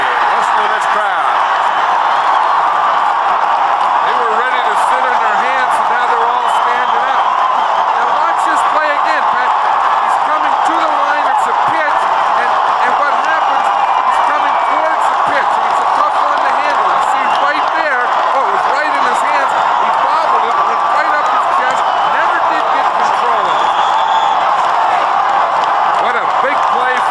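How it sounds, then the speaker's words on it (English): Large football stadium crowd at a Giants home game against the Dallas Cowboys in 1981 roars steadily after a fumble recovery, with a dense, continuous wash of cheering, whoops and shouts that holds loud and unbroken throughout. "Listen to this crowd."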